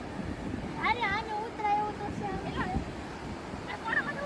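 Sea waves wash onto the shore at Babarkot with a continuous low rumbling surf and some wind noise, while people talk nearby over it.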